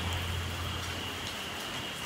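Steady rain falling outdoors on a rural farm at dinnertime, a dense even hiss that continues unbroken and alone.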